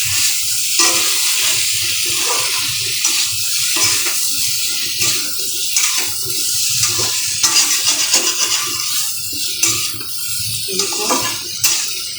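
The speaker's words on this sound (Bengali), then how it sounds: "ভালো করে আমি একটু কষাবো।" Potato curry (alur dum) with coriander leaves is stir-fried in a pan, with continuous loud sizzling and scraping, stirring strokes throughout and no talking.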